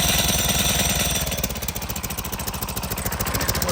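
A two-man earth auger's petrol engine runs steadily after being fixed from a no-start fault, its fast rhythmic pulsing close and loud throughout with no talk.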